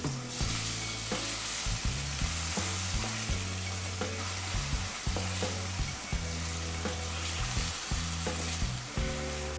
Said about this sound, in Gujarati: જીરું થઈ ગયા પછી આપણે તેમાં 2 ઝીણા સમારેલા બટાકા નાખી દેવાના છે।